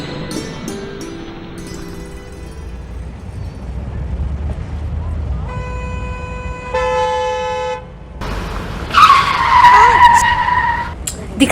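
In a 1952-era drama scene, a car skids with a harsh screech and its horn toots in long blasts, loud and close, amid street noise and voices speaking.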